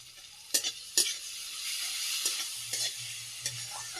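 Chopped tomato sizzles in hot oil in a frying pan while a utensil scrapes and stirs it, steady frying hiss with several sharp clattering strokes against the pan, close up.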